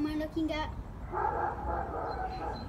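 A dog gives a couple of short barks, close and fairly loud, mixed in with people talking.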